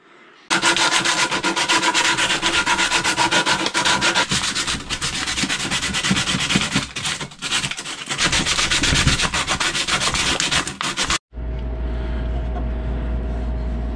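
Wood sanded smooth on a homemade wooden ice-fishing tip-up: a loud, dense, continuous rasping scrub lasting about eleven seconds, close up, then cutting off to a low steady hum.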